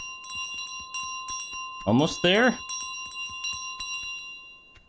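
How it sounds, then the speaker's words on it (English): A bell in Untitled Goose Game rings in two bright, quick bursts mid-clip, ringing clearly over a faint steady game background while a person talks briefly. "Another bell."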